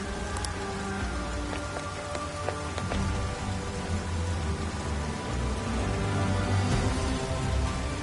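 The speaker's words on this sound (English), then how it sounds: "It just started pouring all of a sudden." Heavy rain pouring in the video game P5S, a dense steady roar of downpour with faint scattered drips and ticks, continuous and loud throughout.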